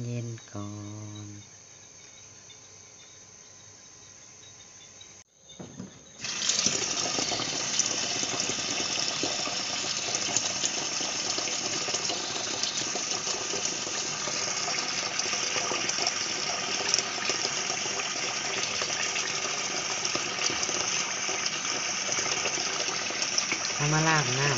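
Bamboo shoots being washed in water for an Isan bamboo shoot curry; after a quiet start with faint sounds, a steady, loud rush of running water sets in and continues without a break.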